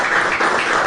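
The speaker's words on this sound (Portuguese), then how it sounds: "Uma salva de palmas para a humanidade de cima" An audience applauds, a short dense burst of many hands clapping together at a steady level, with no voices over it.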